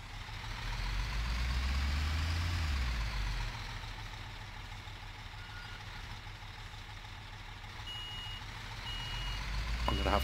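Big truck in the video game Construction Simulator 2015: a heavy diesel engine rumbles and swells, then a series of evenly spaced electronic reversing beeps sounds near the end over the idling engine.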